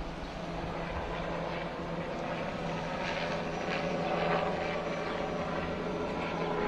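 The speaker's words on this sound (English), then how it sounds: "the helicopter again is flying above us." A helicopter flies overhead during a police funeral procession, its steady rumbling drone filling the air continuously and fairly loudly, with no talking.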